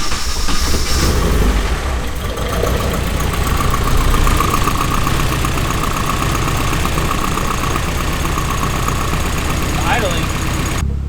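A Nissan car engine being revved from idle as the throttle is opened, a loud, dense mechanical roar that runs steadily throughout with some rattling and clatter, close to the microphone.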